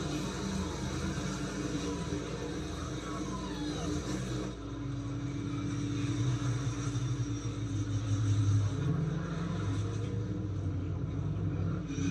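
A NASCAR Cup car, the number 91, runs its victory lap on the Chicago street course in Grant Park. The engine rumbles at a steady distance under crowd and broadcast ambience and swells louder midway.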